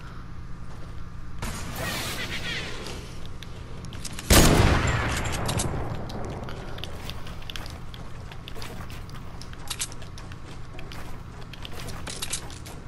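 Rapid bursts of video game gunfire crackle for several seconds, then a louder, heavier blast hits before sustained shooting continues at a lower level, dense and busy throughout.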